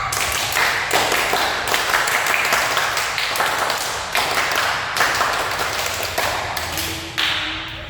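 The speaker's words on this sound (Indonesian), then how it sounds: "Tepuk pramuka." A group of schoolchildren performs the rhythmic scout clap (tepuk pramuka) in a classroom, a fast run of loud, close hand claps and taps in bursts across the whole stretch, with a brief voice near the end.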